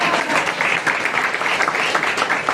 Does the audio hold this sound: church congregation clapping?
yes